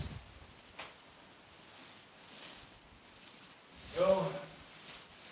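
Epoxy coating is worked into the crevices and small divots of a garage floor, making soft, quiet rubbing and scraping strokes, with a louder brushing swipe near the end and faint talk in the background.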